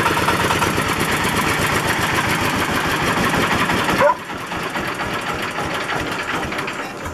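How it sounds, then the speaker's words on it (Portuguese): A 22 hp stationary diesel engine on an agricultural transporter runs close and loud with a fast, even chugging knock. About halfway through it abruptly drops to a quieter, lower idle. "Esse motor, ele é ruim para desligar."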